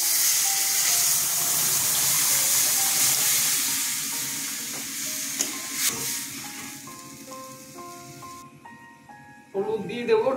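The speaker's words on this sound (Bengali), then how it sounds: "ফোড়ন ভাজা হয়ে গেছে, ডালটা ঢেলে দিচ্ছি" Dal poured into hot tempering oil holding dried chillies, bay leaves and five-spice, giving a strong close sizzle and hiss that gradually settles into quieter bubbling, with a faint clink near the end and no talk.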